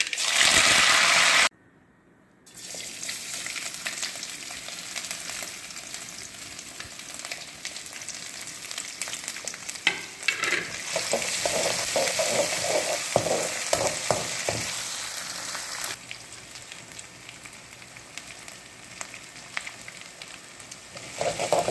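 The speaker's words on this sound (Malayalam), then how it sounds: "കടുക് പൊട്ടിയതിൻ്റെ ശേഷം നമുക്ക് കറിവേപ്പില ഇട്ട് കൊടുക്കാം നന്നായിട്ട്" Hot oil sizzles steadily after a brief silence, then bursts into crackling and spattering for several seconds as curry leaves are added after mustard seeds, before settling back into an even hiss.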